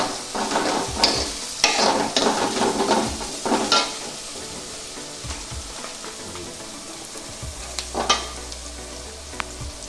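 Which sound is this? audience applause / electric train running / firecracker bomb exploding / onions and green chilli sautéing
onions and green chilli sautéing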